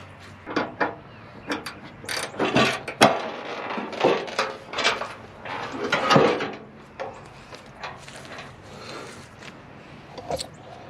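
Ratchet working bolts loose on the fender of a wrecked Dodge Challenger, giving close, rapid clicking bursts mixed with metallic clanks and handling knocks, uneven and intermittent, with no talking.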